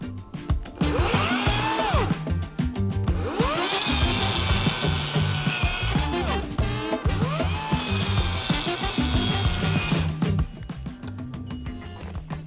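A Dnipro-M DCS-200BC Dual cordless saw cuts through wood in a loud, close, continuous grinding whine with rhythmic rasping. It runs through several long passes separated by short breaks.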